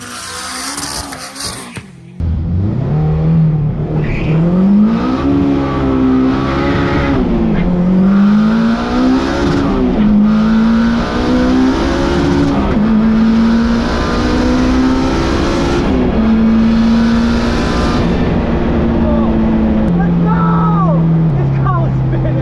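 Honda Civic accelerating down the Santa Pod drag strip, its engine note climbing through repeated gear changes in a loud, close, sustained run lasting about twenty seconds after a brief start.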